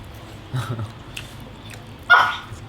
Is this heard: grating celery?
no